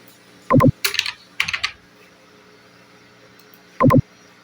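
Brief bursts of computer keyboard typing while an address is entered: a few short clusters of key clicks separated by quiet gaps, close and fairly crisp, with no talking.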